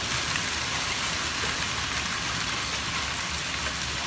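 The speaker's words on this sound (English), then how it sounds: "hail, crazy storm passing through tonight." Heavy rain and hail from a storm with 60 mph winds, recorded at night beside a garage, a dense steady roar that fills the whole clip without a break.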